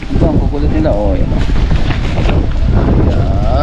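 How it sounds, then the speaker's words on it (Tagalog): Strong wind buffets the microphone outdoors near a house, a steady roaring rumble that runs the whole time, with faint voices and other sounds partly mixed in. "Dito po ay malakas ang hangin ngayon."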